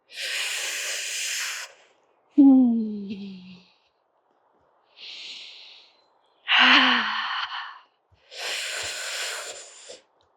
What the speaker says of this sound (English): If it's getting a little bit difficult, breathe deeper. And exhale that fire.